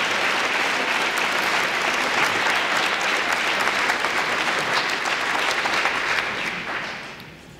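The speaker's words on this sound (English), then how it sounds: "One more round of applause for all of our national champions." Sustained applause from a crowd honoring national champions at a high school awards ceremony, a dense, steady roar of many hands clapping that holds strong before fading out near the end.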